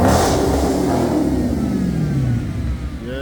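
A Chrysler 300C engine revs loudly close by, its pitch rising and then sliding back down as the throttle is released, with the engine settling into a lower hum.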